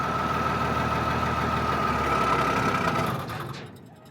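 An old truck engine runs with a loud, steady rumble close by, then its sound drops away sharply in the final second.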